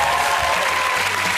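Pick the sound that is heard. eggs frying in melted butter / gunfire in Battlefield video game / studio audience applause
studio audience applause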